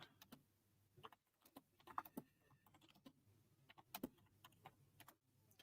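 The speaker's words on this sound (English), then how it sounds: "So can you actually hear me typing in?" Sparse, quiet keyboard clicks tap out irregularly, a few isolated keystrokes and short bursts against near silence.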